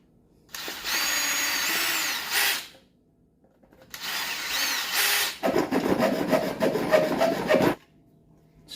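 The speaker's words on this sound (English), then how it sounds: "Let's make sure that this doesn't go in too far and drill out the other side." A power drill bores through a wooden modular fishing rod holder in three sustained whirring bursts. The last burst turns rougher and more grinding as the bit works through the wood, heard up close with no talking.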